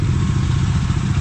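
Motorcycle engines cold starting rumble steadily close by in a short burst of low, continuous idling clatter with no one speaking.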